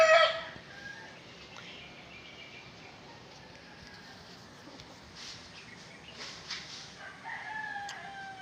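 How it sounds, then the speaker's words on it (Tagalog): Roosters crow in the distance over a quiet outdoor background, a louder call at the start and fainter crows and clucks later. "So, ang dami kong mga manok dito"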